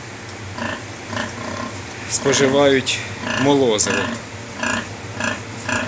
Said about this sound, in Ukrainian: Чудові, чудові поросятка.